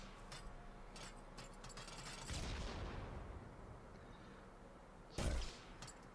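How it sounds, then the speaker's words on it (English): Unreal Engine game projectile effect: a brief bounce followed by a broadband explosion burst, then a second sharp blast later, over a low noisy background with scattered clicks. "It bounces, it's a little bounce sound, and an explosion that deals an impulse."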